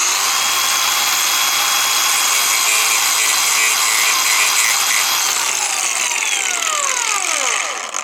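Makita cordless angle grinder with a cutting disc slicing into a 12V battery terminal, a loud, harsh, steady scream lasting most of the time, then the pitch glides down as the disc spins to a stop.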